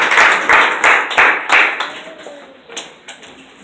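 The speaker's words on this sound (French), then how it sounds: "On applaudit le serviteur" A congregation at a Haitian evangelical church service claps for the preacher in a few strong, rhythmic bursts that fade into scattered, lighter claps.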